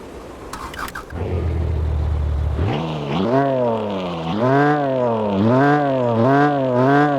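Car engine from the mobile game Car Parking Multiplayer: a low steady idle for a few seconds, then a run of loud, close revs that rise and fall in repeated swells.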